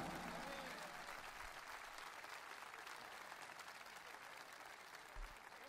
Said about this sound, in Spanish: Fuerte el aplauso para la bailarina.